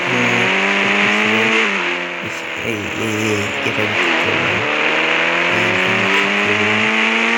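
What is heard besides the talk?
car engine revving as it is driven off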